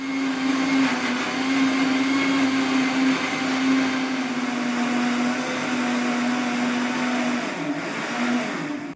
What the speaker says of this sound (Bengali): আমি এখানে কড়াইশুটিটা পেস্ট করে নেব